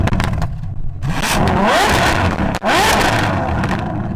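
A Ferrari F12 TDF engine revs hard while driving, loud and close, with rising and falling rev sweeps, a brief dip between shifts, and a steady roar throughout.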